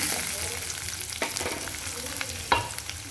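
Ingredients for parandai chutney, including garlic, onion, tamarind, coriander and cumin, sizzle in a pan. Scraping stirs cut in twice over a steady, close fry.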